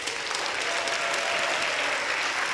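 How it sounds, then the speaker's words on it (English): Chorale members applaud their president during a rehearsal, a dense, steady round of clapping that holds evenly for the whole stretch, close and fairly loud with no talking over it. "And now we have a round of applause"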